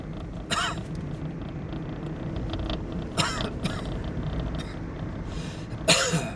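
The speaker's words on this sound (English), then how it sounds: "Excuse my early morning cough." A few separate harsh, chesty early-morning coughs from a lingering cold, spaced several seconds apart, close by, over a low rumble of background noise.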